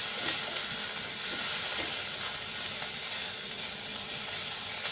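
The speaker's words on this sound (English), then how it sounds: "I would want to add in my dill, a quick" Dill sizzles steadily in a hot frying pan while being given a quick stir, the broad frying hiss continuous and close with faint scraping of the spoon beneath it.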